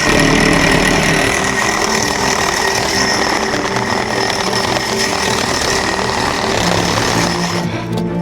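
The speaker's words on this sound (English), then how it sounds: "With their saw wrapped in a trash bag, they approach from behind the camera's line of sight and tear right through this black aluminum alloy post." A power saw wrapped in a trash bag tearing through a black aluminum alloy post: a loud, continuous, harsh grinding whine held steadily at close range, cutting off abruptly at the very end.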